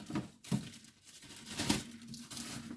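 Soft, close plastic crinkling and rustling in uneven bursts, quiet overall, as a small zip-lock bag for candied cherries is handled.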